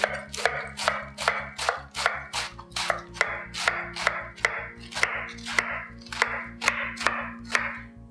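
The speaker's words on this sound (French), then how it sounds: "une fois que j'ai coupé, je recoupe en oblique, comme ça" Steady rhythmic knife chops through romaine lettuce on a cutting board for a Caesar salad, about two strokes per second, close and crisp, with no talking.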